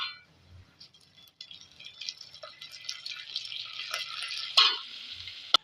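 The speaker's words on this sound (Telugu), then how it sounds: "ఇవన్నీ వేగాక కొద్దిగా నువ్వులను వేసుకోవాలి, అలానే కొద్దిగా కరివేపాకును వేసుకోవాలి." Dried red chillies, sesame seeds and curry leaves fry in hot oil for mango pulihora, a close, steady sizzle that builds and crackles, with a few clinks of a spoon against the pan.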